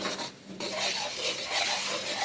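Paneer masala with peas being stir-fried in a pan, with a brief burst of close scraping and rubbing of a spatula over a hissing sizzle.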